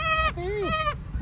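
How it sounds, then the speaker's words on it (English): Newborn goats bleating nearby on a sunny Caribbean island, two or three wavering, pitched cries in quick succession, close and clear, with a short gap before the last call. "we came across these goats that were just born."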